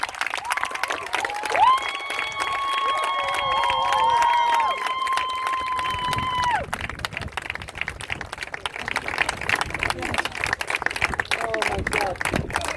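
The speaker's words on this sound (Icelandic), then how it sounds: "Gefum honum gott klapp." Applause and cheering from a crowd at a road race finish line as runners come in, with a sustained whistle-like tone early on and an announcer talking over the steady clapping.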